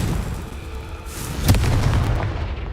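A Confringo blast spell goes off in the Hogwarts Legacy video game, giving a loud, dense booming explosion with a sharp burst midway and a rumbling tail.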